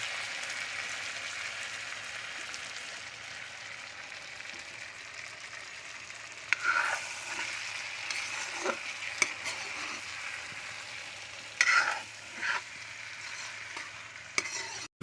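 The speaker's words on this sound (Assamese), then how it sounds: "লৰাই থাকিব লাগিব।" Goat brain fries in a pan Assamese style, a soft continuous sizzle with occasional scraping stirs and clinks, fairly faint and close, cooked outdoors by a pond with no voices.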